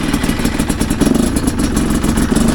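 A Chinese dirt bike engine running just after ignition, a loud, close, continuous mid-pitched mechanical clatter with slight wavering revs and no talk.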